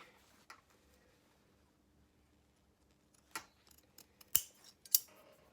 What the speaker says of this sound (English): it's just good to trim off about 1/2 centimetre, like so